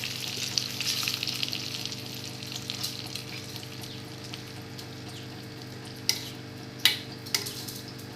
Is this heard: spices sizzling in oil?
yes